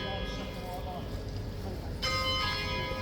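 The 10 a.m. bell at Horse Guards strikes partway through, its sustained ringing tone rising over a constant bustle of outdoor crowd and traffic noise.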